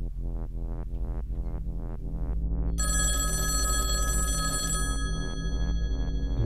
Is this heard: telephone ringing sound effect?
yes